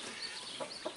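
Backyard chickens clucking softly near a sand pile used for dust bathing, two or three brief faint clucks over a quiet hiss, somewhat distant, with no one talking.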